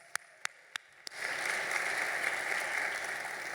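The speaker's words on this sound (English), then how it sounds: "That is worthy of a round of applause." An award show audience breaks into steady applause after a few isolated claps, the clapping rising quickly and holding as a dense, continuous patter through to the end.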